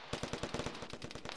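Sustained automatic machine gun fire from a military video game, a rapid string of about fifteen sharp, evenly spaced bursts, loud and close with no talk over it.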